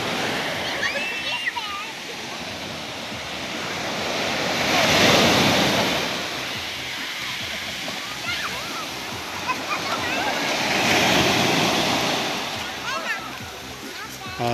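Ocean waves wash onto a beach on Samal Island in slow, loud swells that rise and fall under a constant roar of surf and wind, with faint voices nearby.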